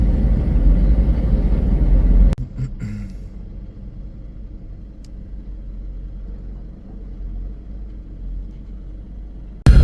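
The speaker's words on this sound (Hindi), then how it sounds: "काफ़ी बाइक्स कार्स ये रोड यूज़ कर रही हैं इस वक्त अपने ऑफिस पे जाने के लिए।" Cars and motorbikes running along Malir Expressway in Karachi during the morning commute, a steady low engine rumble and whir of passing traffic, louder at first, then a quieter, continuous drone.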